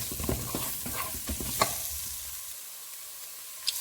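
Garam masala and ground spices fry and sizzle softly in a pan while a spoon stirs and scrapes, with light clicks of the utensil and no talk.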